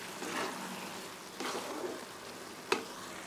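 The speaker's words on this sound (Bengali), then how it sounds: "এবার এটাকে কিছুক্ষণ ধরে কষিয়ে নিতে হবে" Ash gourd with grated coconut stir-fried in a pan, a soft steady sizzle with a few scraping stirs and one sharp tap of the spatula, quiet and close.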